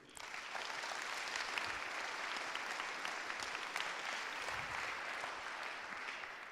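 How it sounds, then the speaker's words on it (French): Sustained applause from the assembly at a French municipal council installation meeting, greeting a newly named council member; steady, dense clapping across the whole stretch at moderate distance, with no voices standing out. "Vous pouvez l'applaudir."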